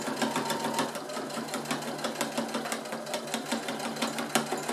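A sewing machine runs steadily, stitching a seam along piping on a fabric sewing-storage mat, its needle making rapid, even mechanical ticks close up with no voices.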